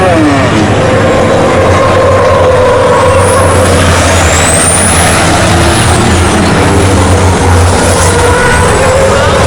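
ChampTruck race trucks roaring together at the Charlotte track, a dense, loud, continuous engine drone with whining pitch sweeps as trucks pass close, with an announcer's voice faintly under the noise.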